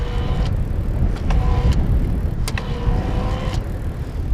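A Trek Conduit+ electric bike's motor runs under a steady, loud wash of road and wind noise, with a faint tonal hum and a few brief clicks while riding, no voices present.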